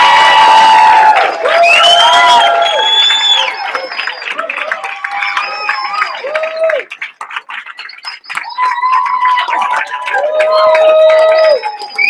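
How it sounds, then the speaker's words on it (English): Large audience claps and cheers for a graduating class at a seminar guest event, loud and sustained across the whole stretch, with whoops and shouts riding over the clapping and a brief dip in the middle. "give these people a huge round of applause"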